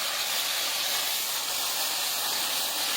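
Four spoons of green chilli paste hit a hot pan of fried garlic ginger paste over high heat, giving a loud, steady, unbroken sizzling hiss throughout.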